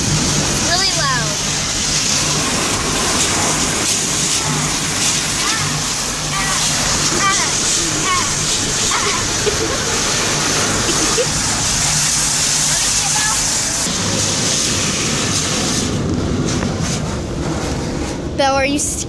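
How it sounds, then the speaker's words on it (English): Loud, steady rush of water spraying against a car in a car wash, a continuous broadband hiss with a voice talking over it and faint squeaks near the end. "Here comes the water that's super scary."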